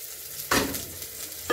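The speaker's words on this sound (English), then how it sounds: "So, you're just going to add the onions into the hot oil." Onions hit hot oil for a chicken stew and sizzle sharply, with a loud burst of frying, then steady crackling and a second surge of sizzle at the end, close up and without talk.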